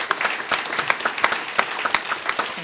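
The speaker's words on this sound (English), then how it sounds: "Please join me in giving them a round of applause." Audience applause at a Boston event on college completion, a crisp mix of many hands clapping with individual sharp claps standing out, steady and moderately loud throughout.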